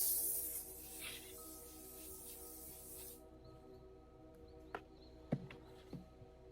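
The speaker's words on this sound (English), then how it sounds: "and then I spray over my whole face." Setting spray mists over a face in one continuous soft hiss lasting about three seconds, close to the microphone. Faint taps and handling clicks follow in the quiet afterward.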